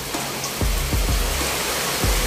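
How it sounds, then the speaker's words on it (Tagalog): Heavy rain pours steadily as a dense, loud broadband hiss, with a few low thumps breaking through the downpour. "Yan, grabe lakas ng ulan."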